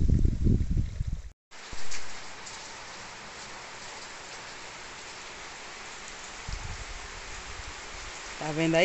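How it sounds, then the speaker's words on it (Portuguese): Steady rain falls on a rural farm in Brazil's northeast, a dense even hiss of drops on surfaces after a brief burst of nearby talk and a short gap, continuing softly throughout. "Depois que terminei aqui o serviço, ó, que Deus mandou, chuva!"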